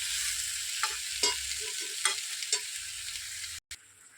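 A spoon stirs tomato chutney with salt in a pan, giving a soft steady sizzle broken by several distinct scraping knocks against the pan, close and alone with no talk.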